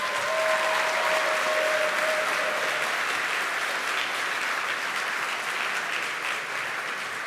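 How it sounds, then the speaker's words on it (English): Sustained audience applause at a podcasting awards and hall of fame ceremony, a dense steady wash of many hands clapping that holds evenly for several seconds, filling the room with only faint voices beneath. "Let's give everybody a round of applause"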